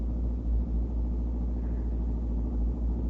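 A car drives along in an old radio drama, a steady low engine rumble and road hum running alone at moderate level throughout.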